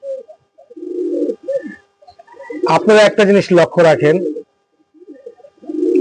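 Breeding pigeons coo low and close before and after someone speaks over them, their soft repeated calls framing his talk.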